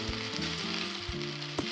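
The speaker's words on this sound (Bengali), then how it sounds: "এবার সব কিছু একসঙ্গে মিক্স করে নিচ্ছি" Vegetarian pasta with mustard oil and sauce being stirred together in a frying pan, a steady close sizzle with occasional scraping knocks from the spoon, no talking.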